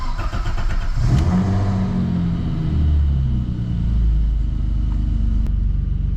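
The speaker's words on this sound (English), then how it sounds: "So I'm just gonna get a cold start and we'll be off to that event." A car engine fires up from cold and settles into a rough, throbbing idle, with a low rumble that swells as it catches and then holds steady at close range.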